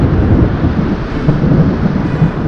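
Storm at sea wrecking a ship, with a dense, steady low rumble and roar of wind and thunder, loud and continuous throughout.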